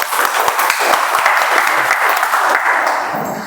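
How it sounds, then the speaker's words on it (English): An audience at a multilingual Toastmasters meeting claps together, a dense, loud, steady round of applause that holds for several seconds and then begins to thin out at the end. "So big round of applause for that."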